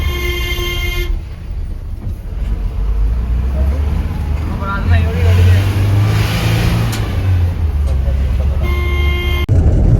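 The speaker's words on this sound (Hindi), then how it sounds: "तो गाइस इधर बहुत ट्रैफिक लग गया है" Heavy traffic jams a busy main road, with a loud, constant engine rumble and drawn-out car horns honking near the start and again near the end, close and prominent.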